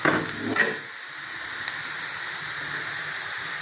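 Onions fry in a pan for chicken chukka, giving a steady close sizzle and hiss, with a few scraping stirs near the start and then an even, unbroken frying sound.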